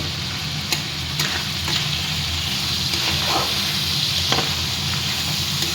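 Goat meat with salt and turmeric sizzles steadily in a cooker, loud and close, while a spoon stirs it with occasional scraping clicks over the continuous frying hiss.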